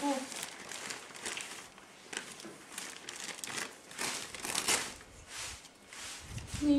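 Christmas wrapping paper being crinkled and torn open as a present is unwrapped, soft repeated rustling and ripping close by, with people chatting in the background.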